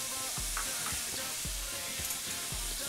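Chopped baby bella mushrooms sizzle in a pan for mac and cheese, a dense continuous frying hiss broken by soft, regular low thumps as they settle and are moved about.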